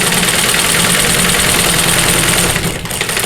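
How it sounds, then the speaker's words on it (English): A sewing machine stitches quilt blocks for a Shoo Fly and Friendship Star quilt, running in a loud, steady motorized hum that carries on without a break and then dips briefly near the end. "So I'm going to go ahead and sew these"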